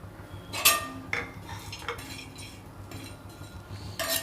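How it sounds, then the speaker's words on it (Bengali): Whole cumin, cloves, cardamom, cinnamon and mace dry-roasting in a pan for a mutton rogan josh, giving a few sharp metallic clinks and soft scraping rattles of a utensil against the pan, close and fairly quiet, with no talking. "এগুলো আমি একটু শুকনো কলায় ভেজে পাউডার বানিয়ে নেব। এবার এগুলোকে আমি একটু ভেজে নিচ্ছি।"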